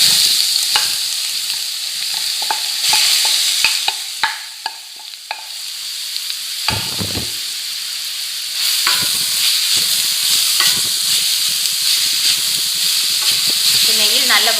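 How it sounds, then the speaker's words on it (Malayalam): Grated beetroot sautés in ghee for halwa, giving a loud, steady sizzle and hiss up close, broken by frequent scraping and clattering strokes of a spoon stirring through the pan. "നെയ്യിൽ നല്ലപോലെ വഴറ്റിയെടുക്കണം."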